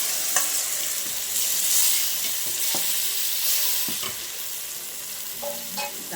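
Onions and ground tomato fry in a pan, a bright sizzling hiss broken by repeated clicks and scrapes of a spoon stirring the mixture.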